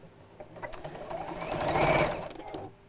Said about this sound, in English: Right, then I'm just going to sew down each side.